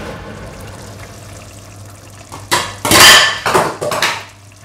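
A spoon stirs rice for egg biryani in a steel cooking pot: quiet at first, then a burst of close, loud scraping and clattering strokes against the metal.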